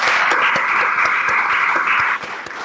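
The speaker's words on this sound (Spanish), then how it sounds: "creo que un aplauso" Audience at an institutional seminar on geography, environment and development giving a short round of applause, a brief, fairly loud burst of clapping that thins out near the end.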